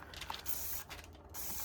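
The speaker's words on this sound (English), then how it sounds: "I'm going to spray a little bit of alcohol" Short hissing spray bursts of alcohol mist into a resin jar mold, faint and close, with a brief pause between blasts and no voices.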